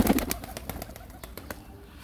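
A domestic pigeon of an old fussy breed, kept at home and slow to come for scattered grain, gives soft repeated coos mixed with brief wing flaps, close by and moderately loud.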